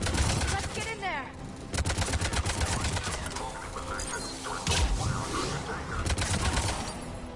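Gunfire crackles through a Mass Effect 3 battle at a checkpoint, with dense repeated shots and bursts layered over music and game effects, steady and loud throughout, with voices speaking at times.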